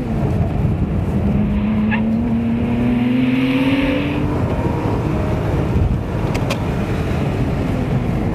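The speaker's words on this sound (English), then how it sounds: "This is going to be a full lap now of the street circuit here in this Boxster Spyder." A 2011 Porsche Boxster Spyder engine heard from the cabin on a street circuit lap, a loud continuous growl with rising revs and gear changes.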